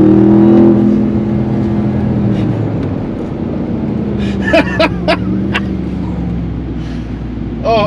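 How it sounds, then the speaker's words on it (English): A Ram TRX pickup truck's engine roars at full throttle from a brake-held launch, a loud, deep revving drone building as it accelerates, with brief exclamations from people nearby. "So, apply brake pressure, apply full throttle, and release."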